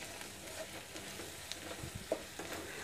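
Softened onion fries with turmeric and ginger-garlic paste for a potato bhaji, a soft continuous sizzle with faint scraping stirs and a light clink, quiet and close.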